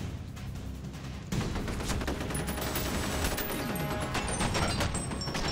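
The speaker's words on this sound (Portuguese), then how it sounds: "Temos armas lasers aqui." Rapid laser gunfire from F.E.A.R. Extraction Point rattles in a dense, continuous burst that grows louder after the first second and holds as a sustained volley with sharp high zaps layered over the top.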